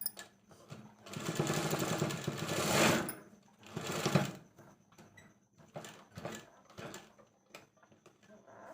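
Sewing machine stitching a girls' school uniform skirt, running in several bursts: two long loud runs, then shorter stop-start stitches with brief pauses between them.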